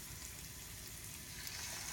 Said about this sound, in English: while we get that good sizzle going in there